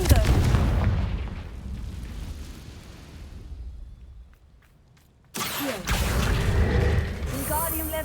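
Confringo fire spell going off in Hogwarts Legacy, a heavy booming blast that rumbles and fades over several seconds, then a second loud burst of crackling impact noise; no one speaks.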